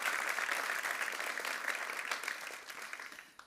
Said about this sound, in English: A big round of applause for Thomas.